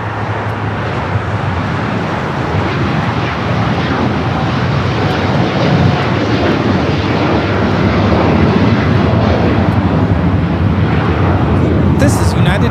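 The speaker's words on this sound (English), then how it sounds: "This is United Airlines Flight 32 taking off to Tokyo Narita on the 787-9 Dreamliner" A United Airlines Boeing 787-9 Dreamliner takes off at LAX, its jet engines giving a steady, loud, broadband roar that builds slightly over the clip, with faint voices underneath.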